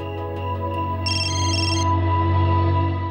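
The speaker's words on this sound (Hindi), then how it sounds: "तुम्हारी आंटी का फोन।" Phone ringtone chiming in a bright repeating tonal pattern over a steady musical background hum, moderately loud, lasting about a second in the middle of the clip.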